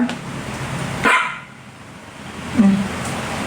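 A small dog barks in a home setting, a couple of sharp barks separated by a pause, fairly close and over a steady background hum.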